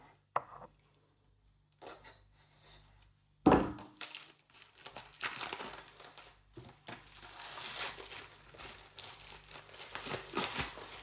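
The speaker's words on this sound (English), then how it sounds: "Get the glossy packaging off." Glossy plastic wrap being peeled and crinkled off a TicWatch Pro 5 presentation box, starting quiet with a sharp tear, then sustained close rustling and crinkling that grows louder toward the end.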